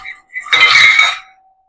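Potato halwa with jaggery stirred in a pan, a couple of light metallic clinks followed by a loud scraping clatter of a spoon against the pan, then a brief fading ring.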